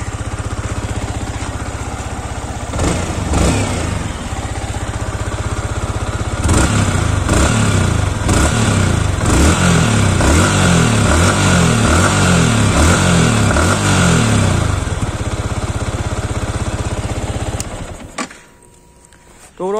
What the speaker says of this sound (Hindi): थोड़ी देर में अभी चलते हैं इस गाड़ी पे, एक शॉर्ट राइड लेते हैं